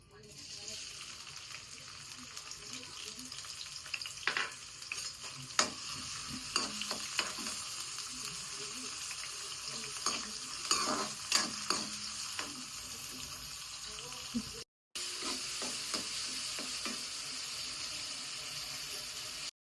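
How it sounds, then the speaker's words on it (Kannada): Chopped onion frying in hot oil in a pan for a home-cooked crab curry: a steady, close sizzle broken by scraping spoon strokes, with a brief drop-out near the end. "ಈರುಳ್ಳಿ ಫ್ರೈ ಆಗಿದೆ."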